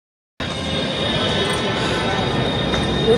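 A Delhi Metro train runs between stations, giving a steady rumbling roar of wheels and carriage noise that starts abruptly after a brief silence and holds constant, heard from inside the car.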